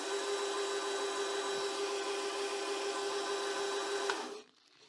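A mini lathe motor runs in reverse with a steady whining tone and mechanical hum from the reverse gearing, held evenly for several seconds and then winding down abruptly into quiet.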